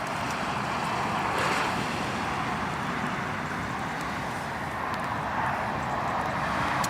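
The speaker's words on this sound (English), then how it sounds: "Back to Eurowings taxiing along." A Eurowings aircraft taxis at Newcastle Airport in strong wind, a steady broadband rumble with gusty wind buffeting the microphone throughout.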